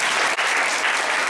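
School students clap together at a personality development session in a government school, a dense, steady burst of applause filling the room throughout with a brief dip near the start.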